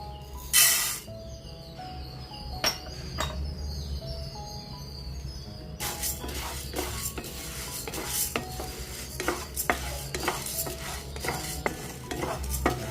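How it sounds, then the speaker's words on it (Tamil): Urad dal is dry-roasted for idli podi and stirred in a pan, with a spatula scraping and clicking against the metal in irregular strokes that grow busier later on, over a faint background hum and no talk. "உளுந்தம்பருப்பை நல்லா கொஞ்சம் செவக்க வறுத்துட்டு"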